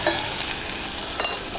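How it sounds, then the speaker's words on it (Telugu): Tomatoes with a pinch of turmeric hiss and sizzle steadily in hot oil in a pan, a close, continuous frying noise with faint stirring scrapes and no talk. "ఈ టమాటాని కాస్త ఆయిల్లో మగ్గనివ్వండి"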